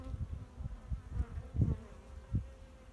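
Honeybees buzz inside a hive, with the odd larger drone in the mix: a close, steady insect hum that swells in short pulses as bees pass near, with no talking.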